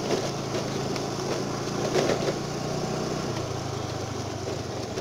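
A motorbike engine runs steadily close by, its drone shifting to a lower pitch about halfway through.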